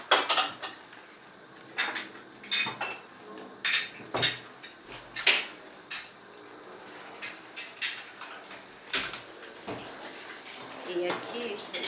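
Spoon scraping and clinking against a pot while mushroom risotto is stirred off the heat to melt in parmesan, a steady run of irregular metallic knocks and scrapes, close and fairly quiet.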